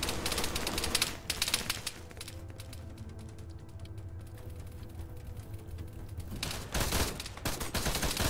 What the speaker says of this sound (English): These guys getting fucking massacred by a machine gun turret